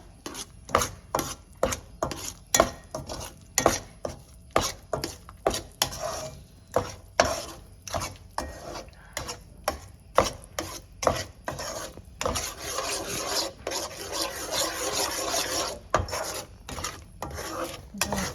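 Flour being stirred and roasted in a pan over a medium flame for sukhdi: quick rhythmic scraping strokes of a spoon against the pan, then a steady continuous rasping stir, close and fairly quiet, with no voices.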